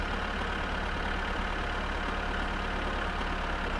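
A tractor engine in the video game My Summer Car runs at a steady loud drone, a constant low rumble with no change across the whole stretch and no voices over it.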